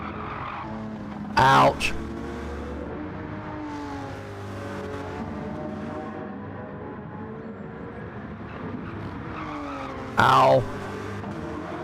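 Race car tires squealing as cars spin donuts in Gran Turismo 7 at Deep Forest, two sharp loud skid bursts several seconds apart over a steady engine drone, with a commentator talking throughout.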